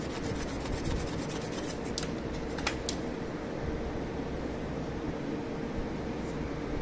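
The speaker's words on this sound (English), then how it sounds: "You can use this kind of brush to brush it." A wire brush scrubs across a welded joint on galvanized sheet metal, giving a continuous dense rasping scrape with a few sharper scratches, close and steady throughout with no talking.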